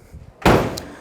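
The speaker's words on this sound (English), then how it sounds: "Doors shut fantastic" Door of a 1965 Ford Mustang Fastback closing with one solid, close thud and a short rattle after it, preceded by a faint click.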